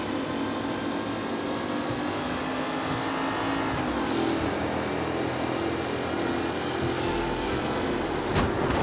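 Race cars roar around a track in Mafia Definitive Edition, a loud continuous engine drone with shifting pitch as cars pass, rising in intensity toward the end.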